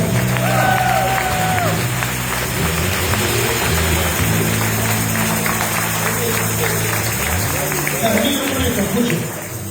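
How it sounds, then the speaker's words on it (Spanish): A church congregation claps in steady, dense applause that runs the whole time, with voices mixed in underneath. "Dale un aplauso a Jesús."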